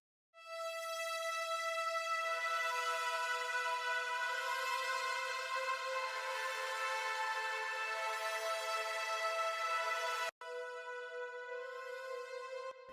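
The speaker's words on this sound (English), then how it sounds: "Next, we've got an analog drone," Analog drone synth from Analog Lab holding a bright, buzzy sustained tone rich in harmonics, a lower note joining after a couple of seconds, briefly cutting out near the end before resuming, heavily processed and playing alone.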